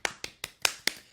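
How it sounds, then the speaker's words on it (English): Six slow, evenly spaced claps, crisp and close, with a short quiet gap after each clap. "I can hear everybody applaud."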